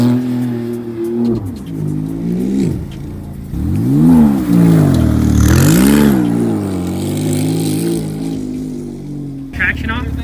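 A Porsche GT3 engine revs hard while off-road with traction control off, the driver trying to spin it; loud, rising and falling revs surge repeatedly over about ten seconds, with people talking in the car throughout.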